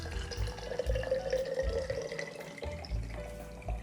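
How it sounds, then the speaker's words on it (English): Water pours steadily into a jar of sliced red onions nearby, a continuous splashing trickle with a rising gurgle as it fills. "pour the water into a jar"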